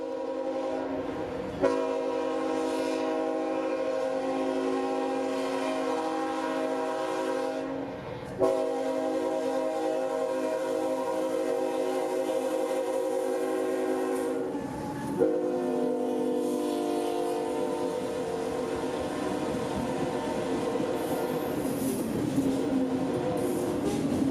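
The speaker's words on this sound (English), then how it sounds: "Another New Orleans manifest with some Union Pacific power leading the way to Waycross" Union Pacific locomotives lead a New Orleans manifest freight train heading to Waycross, sounding a loud, sustained chord horn in several long blasts over the rumble of the passing train.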